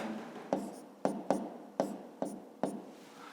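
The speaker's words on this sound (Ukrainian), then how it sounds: "Пишемо промені." Pen strokes on paper while working a 5th-grade geometry exercise, six quick scratchy marks spaced about half a second apart, close and fairly soft, with no talk.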